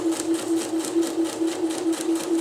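A sewing machine runs at a steady pace, stitching through thin strips of tissue paper, its needle thumping in a fast, even rhythm over a constant motor hum, close and fairly loud.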